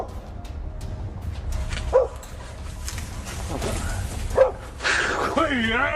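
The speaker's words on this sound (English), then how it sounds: "Sounds of barking are also audible." A dog barks at a moose in dense vegetation, giving a couple of sharp, loud barks a few seconds apart over a rustling, noisy outdoor background, with a voice nearby.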